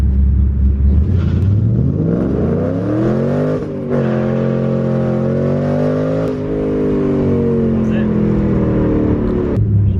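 A cammed Ford Mustang GT accelerating hard from rest toward 60 mph, the loud close engine note climbing in pitch with brief dips at gear changes before easing off at the end.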